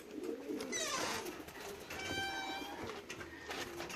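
Racing pigeons, just back from a 359 km race stage from Mlawa, coo faintly at the loft: soft, low coos that come and go over quiet background noise.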